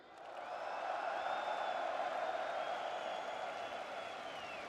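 Live esports crowd at a Valorant event roaring and cheering in a steady, sustained wash of noise with scattered applause, loud and continuous throughout.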